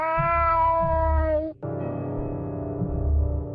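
A cat in the horror video game Fear & Hunger gives two drawn-out, tonal meows, loud and close, the first sustained then cut off briefly before the second, over a low droning game backdrop.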